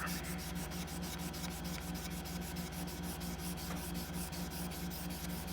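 Sandpaper rubbed by hand along a steel chef's knife blade, a steady, close scraping rasp with fast back-and-forth strokes that continues without a break.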